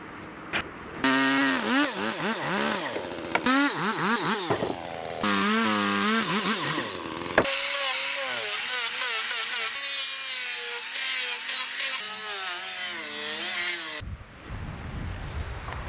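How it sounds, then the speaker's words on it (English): A power saw cuts wooden roof sheets for a cabin being built in the woods. The motor revs loudly and rises and falls in pitch through several cuts, with brief pauses between them and no talking. "the builder cuts the wooden sheets to precise measurements"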